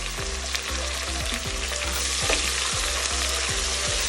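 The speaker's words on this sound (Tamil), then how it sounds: "இந்த வெங்காயம் ஆயிலில் நல்லா ஃப்ரை ஆகி வந்துடட்டும்" Onions and green chillies crackle and sizzle steadily in oil in a pan, with a repeating low scrape of stirring and faint background tones; no one speaks.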